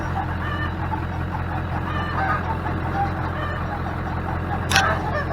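Chickens clucking and a rooster crowing near a workshop where a truck bumper is being fitted, faint bird calls sitting under a steady low engine-like hum, with one short sharp call near the end.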